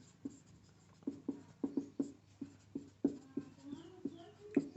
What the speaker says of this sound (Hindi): तो मैं यहां लिख देता हूं परिभाषा से